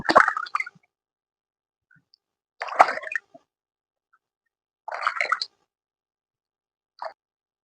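Face being rinsed with water after scrubbing: three short bursts of splashing and slapping water, close by, separated by silence, then one small drip-like plop at the end.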